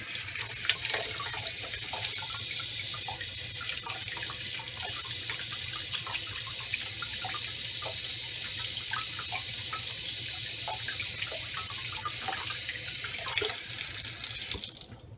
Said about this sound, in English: And then you just rinse it with water.